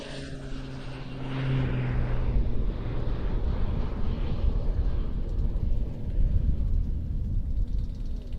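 A Pilatus PC-9M Hudurnik of the Slovenian Air Force 152nd Aviation Squadron makes a very low, dirty pass at an airshow, its propeller engine swelling into a loud, sustained roar close by and holding steady.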